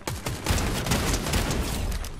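Nemesis AR assault rifle fire in the Fortnite video game, a dense run of rapid automatic shots filling the whole stretch at steady loudness, with no talk over it.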